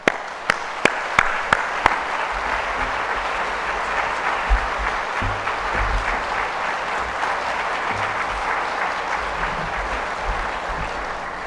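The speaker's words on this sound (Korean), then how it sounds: "큰 박수로 우리 환영하실까요?" A church congregation in Korea applauds to welcome a speaker. A few sharp, spaced claps lead into a full, sustained round of applause that holds steadily throughout.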